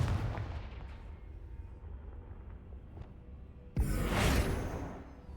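Confringo fire spell blast in the video game Hogwarts Legacy: a sudden loud whooshing burst near the end, over a low rumbling game background, with a fainter muffled thump early on.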